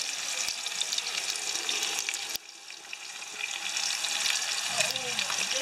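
Steady crackling sizzle of seafood bits frying on a barbecue, with a few sharp clicks and a brief drop in the hiss partway through.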